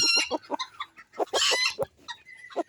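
A bantam chicken clucks close up in a rapid, irregular run of sharp, loud clucks and squawks, with a brief louder burst midway.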